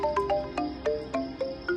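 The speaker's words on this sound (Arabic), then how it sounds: "هو ماجد بيرن عليا" A mobile phone rings with an incoming call, its electronic melody repeating in quick, regular tone patterns, fairly loud and close with no talk over it.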